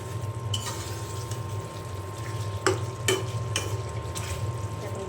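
Chicken pieces with whole garlic cloves being stirred in a pan for a slow-fried chicken curry: a soft, steady sizzle under a low hum, with a few distinct spoon scrapes and knocks.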